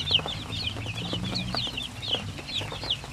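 Several native hens cluck softly and repeatedly nearby, a busy chatter of short calls over a low background hum.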